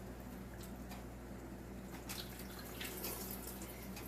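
Homemade spaghetti sauce with cooked basil is poured into a pot for canning, giving a soft, faint liquid splashing and trickling that grows slightly busier toward the end, with no talking.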